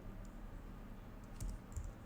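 A few soft, close keystrokes tap on a computer keyboard while an npm install command is entered, faint and brief against a quiet room with no talking.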